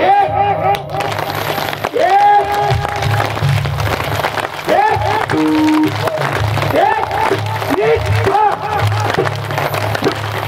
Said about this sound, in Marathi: सगळ्यांनी टाळी वाजवायची